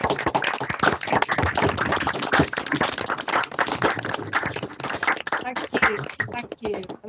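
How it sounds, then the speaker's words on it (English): Audience clapping for a guest speaker at a distinguished speaker talk, heard through opened conference microphones as a dense, sustained patter of hands, fairly loud and continuous, with voices mixed in. "Can I just ask everybody to just turn the microphones on and just give you a clap?"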